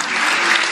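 Dense, steady applause from a concert audience for student violinists, loud and continuous through a brief burst with no voices over it.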